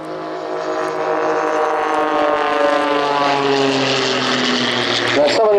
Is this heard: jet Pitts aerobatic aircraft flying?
yes